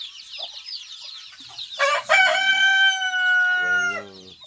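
Backyard hens cluck in a quick, busy chatter close by, then a rooster lets out a long, loud crow that drowns out the flock before trailing off.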